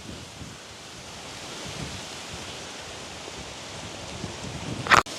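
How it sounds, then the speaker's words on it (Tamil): Wind sweeps steadily through a rice paddy in a village, the ripening stalks rustling in a soft, continuous broadband hiss with no voices, ending in a sharp brief knock. "காத்துக்கு பாருங்க நெல்லு கதிர் எல்லாம் இப்படி ஆடுதுண்டு"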